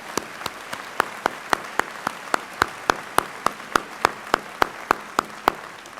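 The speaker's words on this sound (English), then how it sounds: "how about a round of applause for the moms and dads?" Audience at a 2017 college commencement ceremony applauds the parents: one close clapper strikes sharp, evenly spaced claps roughly four per second over a softer, continuous bed of crowd clapping.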